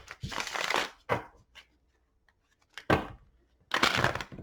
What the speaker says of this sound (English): Let's go ahead and get you some shuffles.